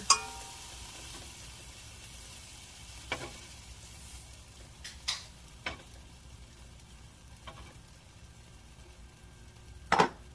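Onions frying in butter in a pan, a soft steady sizzle with occasional sharp scrapes and utensil clicks of stirring, close and without talk.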